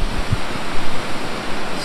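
Water gushing over the KRP check dam makes a loud, continuous broadband roar, steady and close with no voices over it.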